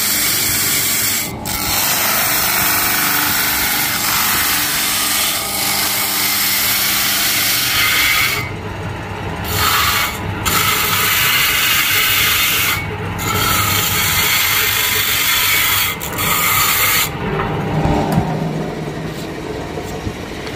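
A wooden kamancheh bowl is sanded on a lathe in a workshop, giving a loud continuous rough rubbing and whirring that swells and briefly cuts out several times.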